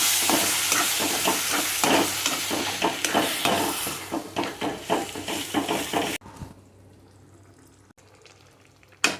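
Spices and curd for paneer kadai masala get mixed in a sizzling pan, rhythmic stirring scrapes over a frying hiss, then it cuts to near quiet with a single late clunk.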